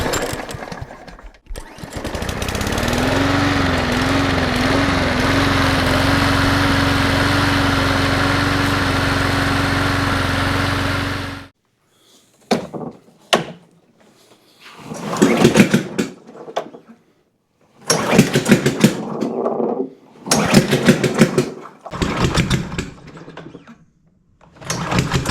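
A Cub Cadet push mower engine runs for about ten seconds with a rough, rapid chugging drone and a wavering pitch, then cuts out, followed by scattered bursts of mechanical clatter and handling noise separated by silences.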